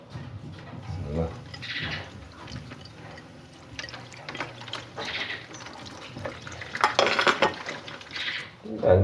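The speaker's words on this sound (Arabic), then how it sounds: "كنشدها كنغسلها مزيان بالماء" A chili pepper is rinsed under running water, with water splashing and dripping near the sink and light clinks of dishes. A faint voice talks underneath at times.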